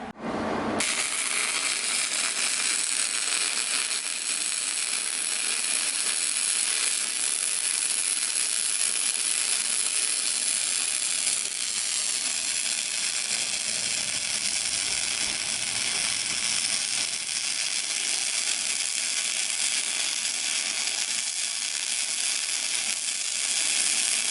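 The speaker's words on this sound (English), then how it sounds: "So we are currently welding on these shackle mounts." Shackle mounts are welded onto a front bumper with a bull bar, giving a continuous, loud hiss and crackle of the welding arc that runs almost unbroken for the whole stretch.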